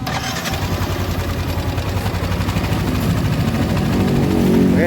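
A Yamaha NMAX scooter engine cranks and catches after a water pump seal and oil change, a rapid loud mechanical chatter rising into a steadier idle near the mic.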